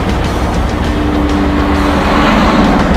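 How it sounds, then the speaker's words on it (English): A 1932 Quadradeuce hot rod cruises the highway with a loud, steady engine drone and rushing road and wind noise, heard from inside the moving car. "Kind of forget the fact that you're riding in an awesome hot rod."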